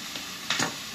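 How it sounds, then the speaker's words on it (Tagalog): Onion goes into a pan of browning garlic and hisses in the hot oil, with a couple of brief bursts of sizzle and stirring, quiet and close. "Ilalagay ko na po itong ating sibuyas."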